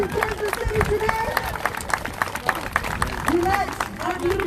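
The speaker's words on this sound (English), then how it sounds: "Give yourselves a round of applause" A crowd applauds and cheers outdoors at a Kansas City rally after a march, scattered claps and whoops running under a voice addressing the crowd, with murmuring throughout.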